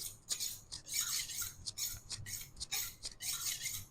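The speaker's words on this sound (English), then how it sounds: "We're just rubbing the same angle that we've rubbed on the stone." Kitchen knife stroked along a sharpening steel after work on a stone, rhythmic rasping scrapes repeating about twice a second, close and fairly quiet with no talk.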